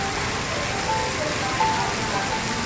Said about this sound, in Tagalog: Yan ang ulan dito sa harapan ng Kalang Wave Mall